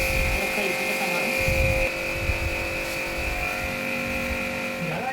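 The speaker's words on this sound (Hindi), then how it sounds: "देखो आपको आवाज़ भी आ रही होगी, बाथरूम में एसी साफ हो रहा है।" An air conditioner being cleaned in a bathroom gives off a steady whining motor drone and buzzing hum, fairly faint, with irregular low rumbles and clatter underneath.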